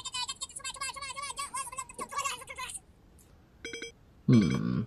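A telephone rings in short electronic bursts within a therapy game scene, coming after a stretch of music and followed by a brief voice.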